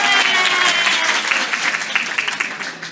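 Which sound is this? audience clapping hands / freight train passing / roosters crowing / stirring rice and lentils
audience clapping hands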